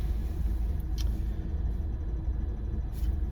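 A steady, low engine hum and road rumble fill the inside of a moving car, constant and fairly loud throughout, with a couple of faint high ticks on top.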